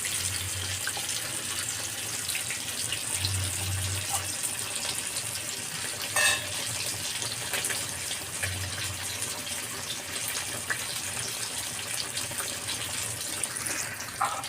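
Tamarind juice is poured into a simmering Andhra-style fish curry, giving a steady watery splashing and gushing over a continuous bubbling bed. The sound is faint to moderate, with low thumps now and then and no talking.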